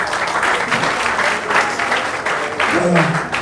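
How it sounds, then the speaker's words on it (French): Sustained audience applause fills a ceremony hall in Côte d'Ivoire, dense steady clapping lasting throughout with voices mixed in beneath it. "bien sûr, on applaudit."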